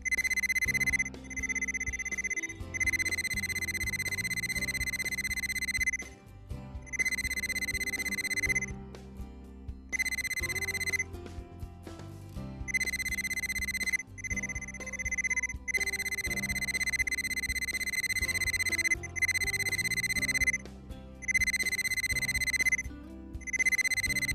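A Pro800 Hi Power wire and valve locator gives off an electronic signal tone. Steady high-pitched beeps come in repeating bursts with short gaps, loud and near, and no one talks.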